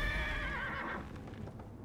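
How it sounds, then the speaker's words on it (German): A horse whinnies loudly and close up as a rider mounts it in the fantasy role-playing game Neverwinter, the neigh trailing off after about a second into softer hoof and movement sounds. "Wir können ja erstmal nochmal auf unser Pferd steigen."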